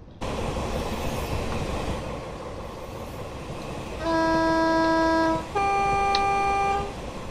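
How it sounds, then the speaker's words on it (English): A High Speed Train bound for Stirling pulls away in Train Sim 2019, heard as a steady rumbling rail noise with two sustained horn-like tonal blasts near the end, no talk. "we're waiting for a HST to Stirling to leave"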